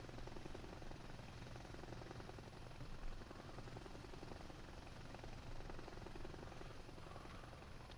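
A helicopter in Arma Reforger gives off a steady, dense rotor thrum and engine whine that runs loud and unbroken from start to finish.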